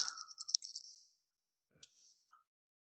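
Soft mouse clicks while working in data integration software, faint and close, with a short tonal burst at the start and two or three isolated clicks after a pause.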